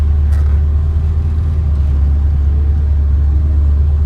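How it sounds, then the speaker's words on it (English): A 1969 Chevrolet Camaro restomod idling in reverse gear, a loud, steady, deep engine rumble close by with no other sounds. "So I'm gonna put it in reverse here."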